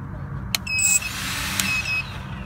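Small Zonda Hobby Q220 FPV quadcopter drone motors spinning up on the ground before a maiden flight, giving brief rising high-pitched whines that come in two short bursts over a low background rumble.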